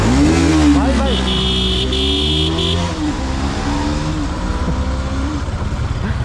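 A TVS Apache RR310 motorcycle accelerates hard in first gear, its engine note climbing and rising in pitch close by, with excited voices shouting over the engine.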